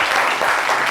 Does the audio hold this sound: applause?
yes